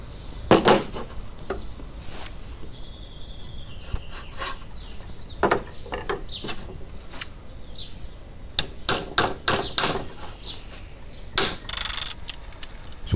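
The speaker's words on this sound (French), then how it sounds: "Je fais un pré-assemblage à coups de petites pointes." Small nails hammered into plywood to pre-assemble a wooden palets game board: sharp, close wooden taps arrive in scattered bursts and quick clusters, separated by quieter workshop rustling.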